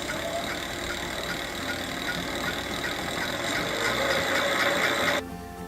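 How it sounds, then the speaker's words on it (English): An e-bike conversion kit motor is tested, giving a steady, close mechanical whir with a rough buzzing texture that runs for about five seconds and then cuts off abruptly. "and then of course you want to test the motor"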